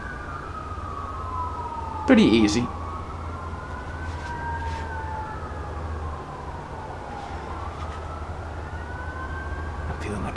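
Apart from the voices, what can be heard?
emergency vehicle sirens outside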